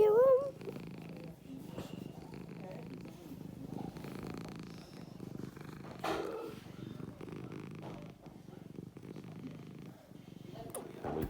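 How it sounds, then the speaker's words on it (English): A pet cat purrs softly and continuously at close range for several seconds, a low rumbling drone with faint background noise. "So let's see if we can hear a little purr."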